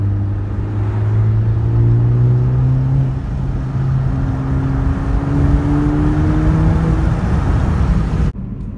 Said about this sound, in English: third gear specifically, you can definitely hear the turbo